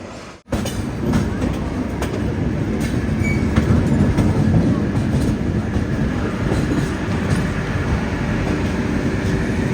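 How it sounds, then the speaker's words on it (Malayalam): Ernakulam Patna Express rolling into Itarsi Junction, a steady loud rumble of wagons with clickety-clack wheel beats and faint squeals, running continuously close by after a brief cut at the start. "ഇത്താർസി ജംഗ്ഷൻ റെയിൽവേ സ്റ്റേഷനിലേക്ക് ഇതാ നമ്മുടെ ട്രെയിൻ എത്തിക്കൊണ്ടിരിക്കുക"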